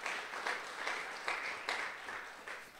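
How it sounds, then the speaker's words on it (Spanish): A church congregation at a Spanish-language Sunday service in Chicago claps in steady, rhythmic beats, moderately distant and filling the room. "Aplaudimos al Señor, hermano."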